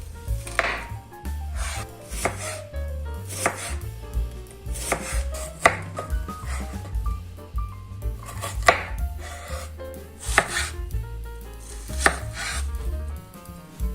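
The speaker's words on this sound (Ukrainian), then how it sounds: "Беремо 5-6 цибулин середнього розміру та нарізаємо їх півкільцями." A knife chops five or six medium onions into half rings on a board, a steady run of sharp, close cuts with irregular rhythm and no talking.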